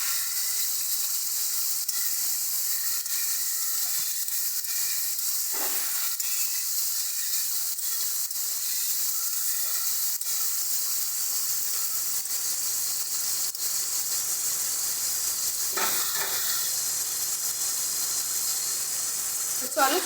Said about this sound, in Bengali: ভালো করে চিংড়ি মাছগুলো ভেজে নেব